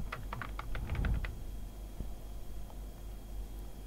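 Fingers tap quickly on a computer keyboard while filling in an online job application form, giving a close, quiet burst of clicks that trails off into a few scattered keystrokes.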